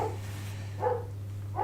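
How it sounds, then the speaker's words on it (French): A neighbouring dog barks faintly next door in three short, evenly spaced bursts over a steady low electrical hum in a quiet indoor room. "we apologize if you can hear the dog next door"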